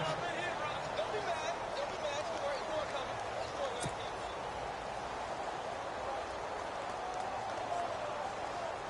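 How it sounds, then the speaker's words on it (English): Crowd noise in a PS4 American football video game builds ahead of a big third down, a steady murmuring cheer with faint whistles and one sharp tap, holding at a moderate, distant level. "The crowd getting into it as we come up on a big 3rd down."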